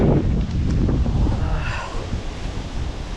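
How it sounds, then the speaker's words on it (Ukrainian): Wind gusting across a riverside spot on the Desna during a pike fishing trip, a steady loud rush with microphone buffeting that runs the whole time with no talk over it. "Ох, вітер."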